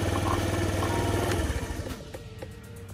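A 2003 Honda Ruckus scooter engine idling after a fuel pump repair, a close putter of rapid firing pulses that drops off and fades toward the end, with no voices.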